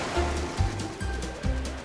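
Cartoon ocean waves surge in a rolling, repeating wash of noise with low thumps roughly every half second, steady and fairly close, with no talking over it.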